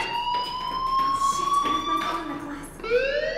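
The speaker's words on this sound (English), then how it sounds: "do you hear that fire alarm?" Electronic fire alarm in the video game Life Is Strange, a steady high tonal whine with harmonic overtones sustained throughout, joined near the end by a rising siren-like sweep.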